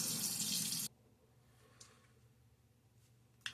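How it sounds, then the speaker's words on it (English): A shaving brush is rinsed under a running tap: a loud, steady rush of water for almost a second stops abruptly, leaving quiet room tone with a few faint handling knocks and a short bump at the end. "here is the brush after a good rinsing"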